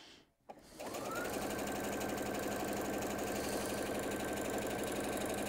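Sewing machine stitching the long side of a quilt block, starting up after a brief pause and then running as a steady, fast, close mechanical hum and rattle.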